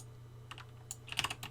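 Search keywords go in on a computer keyboard as a short run of quiet, quick keystrokes over a low steady hum, growing busier toward the end, with no talk.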